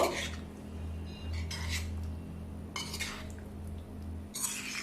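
Clinking of a utensil against a bowl as paneer, onion layers and marinade are mixed for paneer tikka, with steady scraping strokes near and fairly quiet, under a constant low hum.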